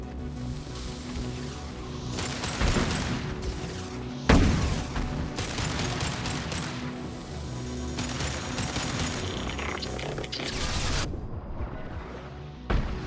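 Gunfire in Mass Effect 2 combat: repeated loud bursts of weapon fire with booming impacts, clustered in several volleys with short gaps, close and without talk.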